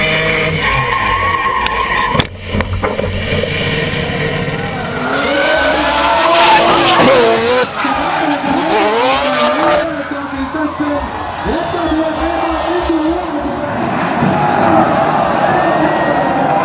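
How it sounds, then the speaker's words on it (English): Quad-rotor Mazda RX-7 drift car at a D1NZ drifting round in Tauranga, screaming loudly as it spins out with squealing tyres, under a commentator's voice and crowd-loud track noise. "Gary Tanana spinning out and sending the famous quad rotor RX-7 into the wall."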